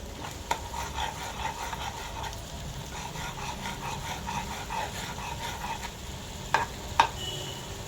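A thick tamarind and jaggery mixture for pumpkin chutney is stirred over heat, giving a steady soft scraping and faint sizzle with a few sharp utensil clinks toward the end.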